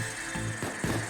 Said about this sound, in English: I'm putting a drill on this safe.